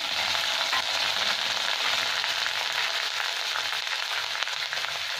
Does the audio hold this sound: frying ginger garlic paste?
yes